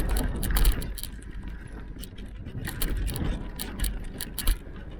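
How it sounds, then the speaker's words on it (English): A loose part on a bicycle rattles and clicks as the bike shakes while riding, captured on a DJI Osmo Action camera: irregular bursts of sharp metallic ticks over steady rolling rumble throughout, without speech. "listen to this weird rattly clicking sound"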